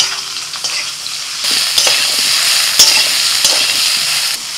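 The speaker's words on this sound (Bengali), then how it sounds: "আলুটা ভাজা হয়ে গেছে, তারপরে আমি দিয়ে দিচ্ছি সিদ্ধ করা সয়াবিন" Steady sizzling of soybean chunks and potatoes frying in a pan, with occasional scraping stir strokes; loud and close, no voices.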